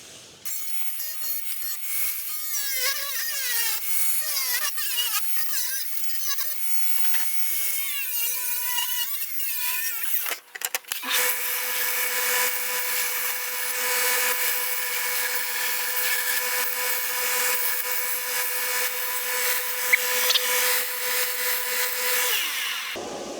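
A power tool whines loudly and continuously as it cuts out a straight-pipe exhaust part for a BMW M57-engined Rolls-Royce Phantom, pitch shifting partway through before holding steady to the end.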